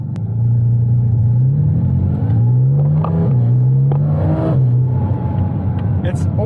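A Porsche GT4 RS or 981 GT4 engine revs loudly up and down in rising and falling sweeps, close and throaty, with brief talk underneath.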